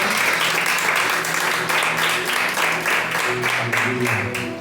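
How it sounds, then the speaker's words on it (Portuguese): A church congregation claps in praise during an evening service, a full, sustained round of applause with a loose rhythmic pulse, loud and close, while sustained musical tones play underneath. "E uma salva de palmas que louvamos, Senhor."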